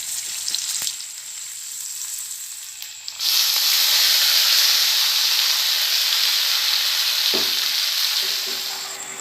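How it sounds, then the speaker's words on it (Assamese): Four coated pieces of bitter gourd fry in hot oil, a loud, steady sizzling hiss that surges in after a quieter start and stays close and continuous, with a soft clink partway through. "4টা এনেদৰে লেটিয়াই তেলতে ভাজি ল'ম"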